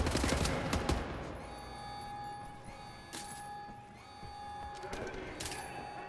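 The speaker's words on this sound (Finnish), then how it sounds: "nää on täysautomaatteja nää pistoolitkin" Rapid automatic pistol fire in the shooter game Wolfenstein: The New Order: a dense burst of gunshots at the start, then scattered sharp shots and clinks over a steady tonal game background.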